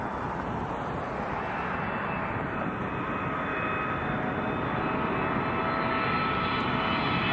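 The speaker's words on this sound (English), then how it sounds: "This little swoopy is WestJet 715 off to Vancouver, 737-800." A WestJet Boeing 737-800 jet departs Toronto Pearson, a steady broadband engine roar holding at moderate distance throughout, slowly swelling slightly louder toward the end, with no voices.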